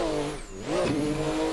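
Nissan 180SX engine in a racing video game played with a wheel and pedals on a touge uphill run, revving with a dip and surge after a clutch kick, loud and close with a sustained drone.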